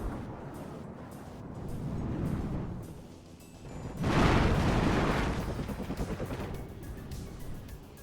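An artillery barrage in the video game WARNO: low rumbling booms swell, then a heavy burst of explosions roars in about midway and rolls on with repeated thudding impacts as it fades, no voices over it.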